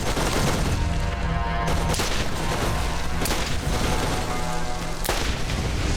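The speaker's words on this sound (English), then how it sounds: "the corrosive weapons do a lot of work on those freaking turrets too" Corrosive weapon gunfire in Borderlands hammers at turrets in rapid, dense volleys, loud and continuous with sharp shot cracks standing out over steady game noise.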